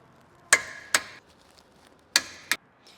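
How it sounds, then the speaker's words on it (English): A torque wrench set to 200 newton meters tightens front brake caliper bolts on a 2023 Cupra Formentor VZx with a 21mm socket, giving four sharp, close clicks in two quick pairs with a quiet pause between. "Going to get your 21mm socket and a torque wrench set to 200 Newton meters for these."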